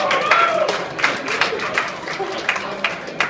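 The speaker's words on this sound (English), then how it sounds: "if we can get a quick round of applause" Small audience at an evening happy hour gathering giving brief applause, with scattered claps and sharp hand hits over a low murmur of voices.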